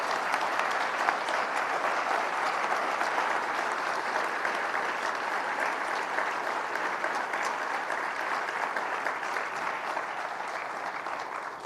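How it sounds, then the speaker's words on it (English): Sustained, dense applause from an audience for four community candidates, a loud, even wash of many hands clapping that holds steady for several seconds. "So could we give our 4 candidates a big round of applause?"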